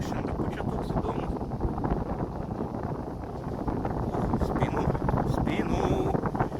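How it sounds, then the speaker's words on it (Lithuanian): Strong wind buffeting the microphone outdoors at a high spot in Zarasai, a dense continuous low rumble and roar throughout, loud and close, with a voice partly buried beneath it. "Atleiskit, jeigu vėjas bus, nes labai pučia"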